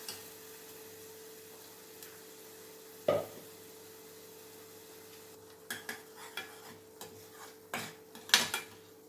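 Ground green masala for chicken is stirred in a pan, with intermittent spoon scrapes and clinks against the metal, some in quick bursts near the end, over a faint sizzle and a low steady hum.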